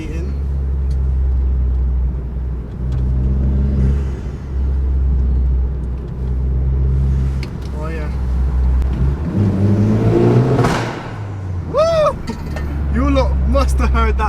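Inside a forged Vauxhall Corsa VXR, the engine drones and rumbles loudly under driving, with revs rising and falling and a brief exhaust pop, while a voice talks over it.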